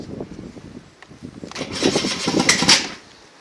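MBK Ovetto scooter engine starting nearby: a low rattling crank that rises over a couple of seconds into a brief louder catch with a higher whine, then drops away quickly.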